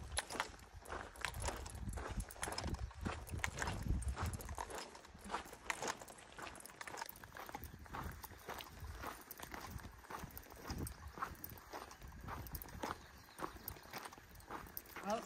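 Two horses walking along a hiking trail in the Grayson Highlands, their hooves clip-clopping in a steady, repeated rhythm close by, with footsteps and rustling mixed in.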